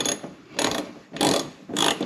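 A hand ratchet tightens fasteners on WeatherTech mud flaps on a truck, four quick bursts of rapid clicking pawl sound separated by brief pauses, close and loud.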